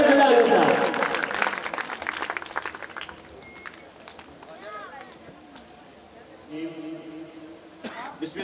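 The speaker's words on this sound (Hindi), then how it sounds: "आप भरपूर तालियों में उनका इस्तक़बाल करेंगे।" Applause from a school farewell party audience bursts out loud at first, then thins and fades over several seconds as the crowd settles, with scattered murmuring and stray noises after.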